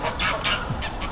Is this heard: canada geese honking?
yes